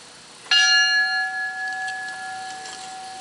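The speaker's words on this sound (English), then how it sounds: "Our thanks to the Gettysville Fire Department, too, for the tolling of the bells" A fire department bell tolls once at a 9/11 commemoration ceremony, a single clear, loud strike whose metallic ring hangs and slowly decays over several seconds, with no talk.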